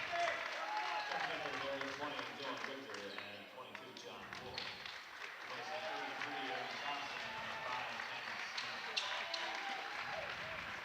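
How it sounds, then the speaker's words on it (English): A crowd at a men's college basketball game, CWRU against Washington University, applauds a player leaving the court. The clapping is steady and mid-distance and mixes with general arena murmur and chatter for the whole stretch. "Thompson gets a nice round of applause from his fans who traveled up from Elida, Ohio to watch him play today"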